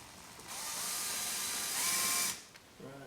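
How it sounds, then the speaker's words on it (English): A power drill bores out plastic rivets on a Tesla Model 3 rear door panel, a steady high-pitched whine running close and loud for about two seconds before winding down, followed by a faint mechanical rattle. "Let's start drilling these rivets out."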